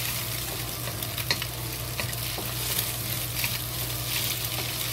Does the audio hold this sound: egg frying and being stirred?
yes